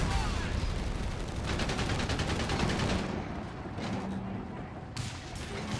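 Sustained machine gun fire in the World War II strategy game Company of Heroes 3, a dense rattling burst that runs for several seconds and then thins into scattered shots over battlefield noise.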